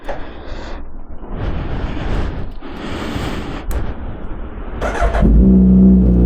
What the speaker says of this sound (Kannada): ಗಾಡಿನ ಸ್ಟಾರ್ಟ್ ಮಾಡ್ಕೊಂಡು ಬಿಡೋಣ ಕೋಲ್ಡ್ ಸ್ಟಾರ್ಟ್ ಇರೋದು